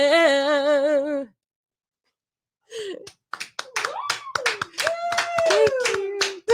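People in cars stopped on Orange Avenue in Coronado applaud in a burst of scattered, sharp claps, while voices talk and call out over them. A sustained tone precedes a short silence.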